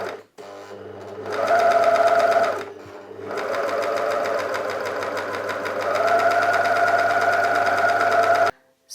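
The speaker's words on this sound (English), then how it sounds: "As I sew, I place the elastic under the stitch and gently stretch it" Sewing machine stitching elastic into the top edge of a scarf top, a steady close motor whir in two runs with a short pause between, no talking.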